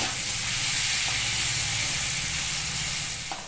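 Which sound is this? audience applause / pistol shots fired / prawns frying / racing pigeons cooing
prawns frying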